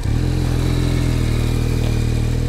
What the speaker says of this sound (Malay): So engine dia memang bunyi sedap gila lah.